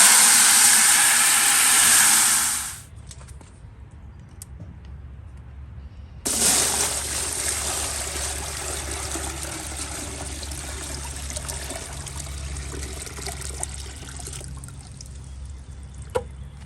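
Water from a full 5-gallon bucket pours into the tank of a portable Green Works pressure washer. A brief loud gush is followed by a pause, then a long, steady trickling stream that keeps running with no one talking.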